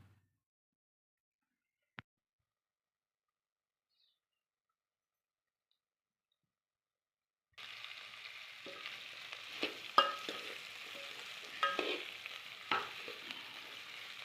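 Desi bitter gourd hits a hot pan for tempering after a long quiet pause and one sharp click, then sizzles and crackles steadily with scattered pops and stirring scrapes.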